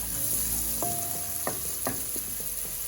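Onions frying in oil in a pot for curry crabs, a dense continuous sizzle with several sharp clanks and scrapes of a spoon stirring, close up and without voices.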